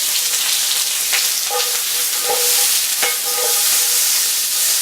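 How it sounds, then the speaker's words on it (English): Udon noodles with chicken, yellow onion and vegetables tossed and stirred in a pan, a continuous loud sizzle broken by several quick scraping and clattering strokes, with no voices. "I'm going to move it from the stove so I can toss"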